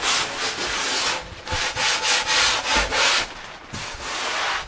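Loose sandpaper rubbed back and forth by hand across a wooden deck gives repeated rasping strokes in an even rhythm, close and fairly loud with no talking.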